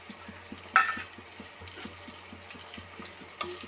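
Onions frying in a pan with curry leaves for Tamil urundai kulambu, a faint steady sizzle under regular light ticks of stirring, with a couple of louder scrapes.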